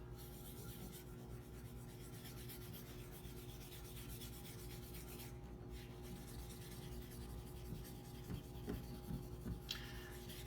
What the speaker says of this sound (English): Just going to use a rust eraser real quick to clean it off.